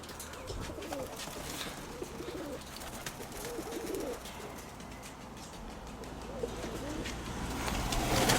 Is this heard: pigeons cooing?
yes